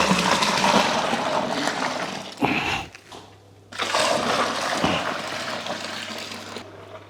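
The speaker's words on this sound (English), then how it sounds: "now I'll just bring the fermenter up to 23 litres of tap water" Tap water gushes into a beer fermenter being filled to 23 litres for a Coopers Sparkling Ale brew, a loud steady rushing fill that drops away briefly midway before surging back, with no talk.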